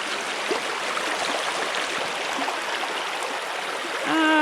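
Water rushes steadily around the legs of someone wading across a rocky river, a close, dense, continuous flow, with a brief voice starting just at the end.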